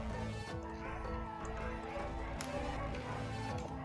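Several dogs bark in the distance outside an open window, a steady busy background of yaps and woofs running the whole time beneath faint room noise.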